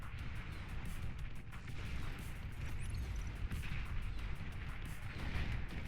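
Artillery units firing in the real-time strategy game Beyond All Reason, a dense continuous barrage of booming shots and crashes with repeated bursts, loud and unbroken throughout, no voices.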